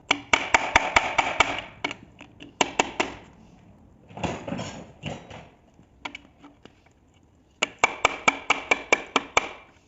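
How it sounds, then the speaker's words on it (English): Hammer blows strike a stuck water pump on a BMW M42 engine during accessory removal, landing as rapid bursts of sharp, ringing metallic hits. Bursts alternate with brief pauses and a short scraping stretch, all loud and close. "So we're gonna start with this hammer going up."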